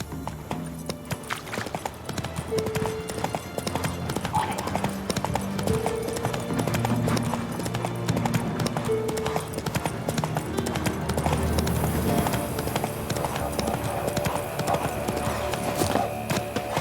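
Roach the horse gallops in The Witcher 3, rapid rhythmic hoofbeats running continuously alongside a layered orchestral music score, with a faint whinny partway through.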